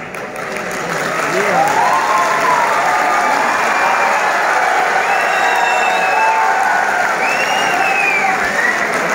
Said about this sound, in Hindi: वसी शाह साहब के लिए भरपूर तालियां